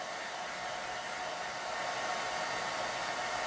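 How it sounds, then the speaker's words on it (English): A blow dryer runs in a steady, continuous whoosh as it dries chalk paste paint on a craft project, loud and close with no other sounds. "we're just going to dry it with a blow dryer super duper quick"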